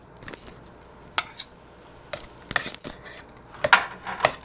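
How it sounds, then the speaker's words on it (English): A spoon stirs cooked rice into hot milk in a pot, soft scraping broken by several sharp metallic clinks against the side, quiet and close with no talk. "And now you just stir in the cooked rice."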